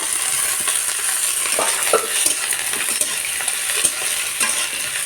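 Potato, eggplant and green chili fry with onion in hot oil, giving a steady bright sizzle broken by light clinks and scrapes of a spoon stirring the pan.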